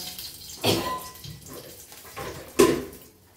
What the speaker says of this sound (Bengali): এই মশলাটার মধ্যে একটুখানি জল দিয়ে রাখবো